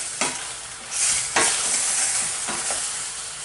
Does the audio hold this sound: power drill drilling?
no